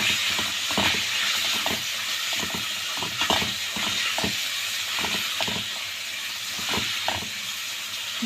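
Liver and gizzards with vegetables and garlic sizzle steadily in a hot pan, a constant frying hiss broken by repeated sharp scrapes and knocks of stirring, with no voices.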